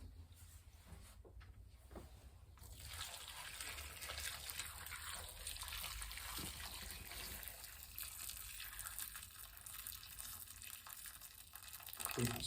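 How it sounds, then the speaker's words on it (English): Water pours steadily from a tap into a pot of vegetables, a continuous close rushing and gurgling flow that runs for several seconds with no speech over it. "we'll now fill this with water so that it just comes to the top of where the vegetables are"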